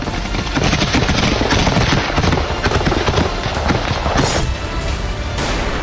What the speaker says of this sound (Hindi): ताबड़तोड़ फायरिंग की ये तस्वीरें क्रिमेनिया की